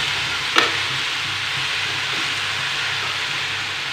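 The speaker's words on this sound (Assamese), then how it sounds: "কোমোৰাকণ ধুনীয়াকৈ বহাই দিছোঁ, অকণ লৰাই দিছোঁ" Ridged gourd cooks with a steady sizzle in a pan while being stirred, with one sharp scrape of the utensil early on.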